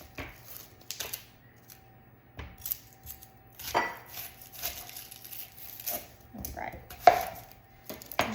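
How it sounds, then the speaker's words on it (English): A knife cuts and peels a sweet onion on a cutting board, with a string of crisp, close chops and taps spaced irregularly over quiet pauses, alone without talk. "Gonna dice that in half and just peel off that first layer or two."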